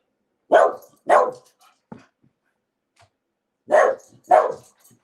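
A dog barks in two pairs of loud, close barks, with a faint yip between them and quiet gaps around each pair.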